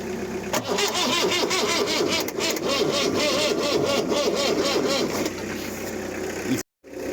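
An Iveco 35-8 van's 2.4 diesel, idle for six years, cranks and fires up, settling into a loud, rough, steady running clatter up close before cutting off abruptly near the end.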